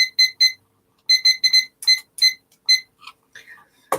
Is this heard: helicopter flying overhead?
no